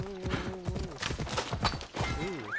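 Horse hooves clip-clopping in the game Assassin's Creed Odyssey, a steady rhythmic gait with a brief whinny near the end, heard alongside game music and a few voice-like tones.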